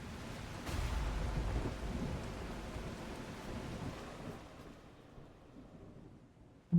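Thunderstorm with steady rain in the video game Last Caretaker, a dense wash of rainfall with low rumbling thunder that swells early and fades gradually, ending in a sudden louder hit.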